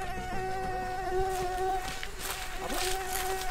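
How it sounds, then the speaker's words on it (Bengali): A mosquito whines close by in a sustained high buzz with a steady pitch, continuous throughout, over a faint background of household noise. "মশারে শালার যন্ত্রণা"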